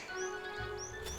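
Wild mountain birds feeding near a monk at a small autumn-mountain hermitage give a few faint, short chirps over a soft, steady background hiss.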